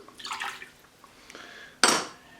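Tamari and water poured into a bowl while making Korean braised tofu: a brief liquid splash near the start, then a louder, sharper pour-and-clatter burst near the end, close and with no talk.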